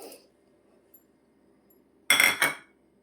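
White sesame seeds drop into a bowl of snack dough, giving a close, brief rattling patter in two quick bursts after a near-silent pause.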